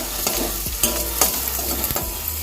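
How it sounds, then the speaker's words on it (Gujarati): Chopped onions sauté in hot oil for a dhaba-style sev tameta shaak: a continuous close sizzle broken by a run of spoon scrapes and taps against the pan, with no talking. "હવે કાંદાનો કલર થોડો ચેન્જ થઈ જાય ત્યાં સુધી આપણે એને સાતડી લઈશું તેલમાં."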